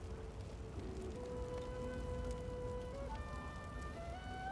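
Rain spell cast in the role-playing game Divinity: Original Sin II: a soft, continuous patter of rain under gentle sustained musical tones, faint and steady throughout.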